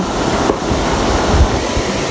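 The Madi river flowing gives a loud, steady broadband rush of moving water, continuous and close, with no voices.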